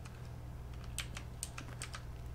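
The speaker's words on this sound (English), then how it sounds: "or is it just random type on the keyboard?" Rapid clattering keystrokes on a computer keyboard in The Stanley Parable, an irregular burst of clicks in the second half over a steady low hum.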